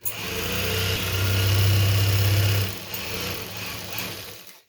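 A sewing machine runs a straight seam joining bias-cut petticoat panels, a steady close motor hum swelling for a few seconds and then easing off, with no talk.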